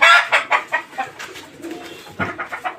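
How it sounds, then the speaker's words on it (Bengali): Fayoumi chickens cluck in a series of short, close, rapid calls, with a brief pause before a final burst. "এগুলো একটা ফাউমি মুরগি,"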